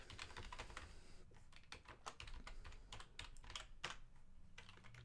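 Steady typing on a computer keyboard while entering login credentials during a network server install, with rapid irregular keystrokes up close and no talking.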